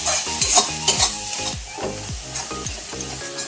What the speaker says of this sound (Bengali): মশলাটা আমি ভেজে নিচ্ছি।